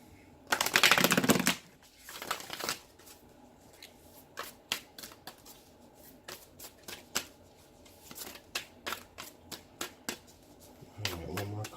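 Tarot cards being shuffled by hand: a loud riffling burst at the start, then a long run of quick crisp card snaps and slaps in uneven clusters, close up, with a brief low voice near the end.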